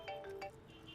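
A phone rings with an incoming call: a short, quiet electronic ringtone melody of a few bright notes, faint and close, with no talking over it.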